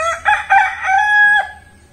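A rooster crows once at dawn in a Konkan village, a loud, close, stretched call with a rising start and long held tone, ending abruptly before quiet.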